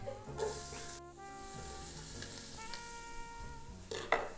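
Onions frying in olive oil and butter in a soup pot, a soft sizzle with light stirring scrapes and a brief hiss near the end, quiet and close.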